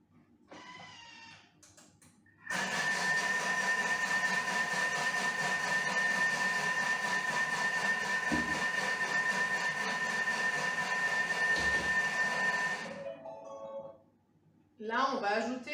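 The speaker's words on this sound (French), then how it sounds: "Et on programme 10 secondes à vitesse 5." A Thermomix mixing chocolate zucchini cake batter at speed 5 makes a loud, steady motor whir with a high whine for about ten seconds, then stops.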